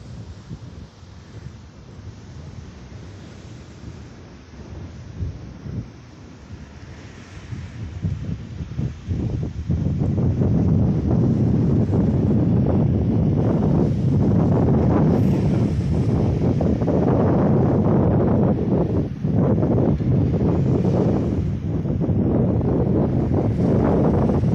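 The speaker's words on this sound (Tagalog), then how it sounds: "grabe ang lakas ng hangin" Strong seaside wind, blowing loud gusts into the microphone that build into a continuous heavy roar about halfway through, with waves faintly beneath.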